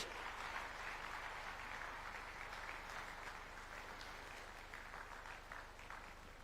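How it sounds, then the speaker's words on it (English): A large conference audience in Nairobi applauds steadily as Kenya's president takes the stage, a dense wash of clapping that holds and fades only slightly over several seconds. "Another big round of applause"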